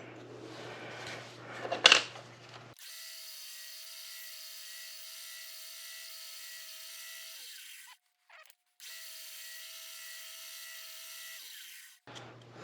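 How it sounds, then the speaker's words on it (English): Small wood piece being sanded by hand to fit a cross inlay in a ring, a steady close rubbing hiss running for several seconds, pausing briefly, then resuming, after an initial sharp scrape. "So we just need to kind of sand him a little bit to get him where he fits right in there."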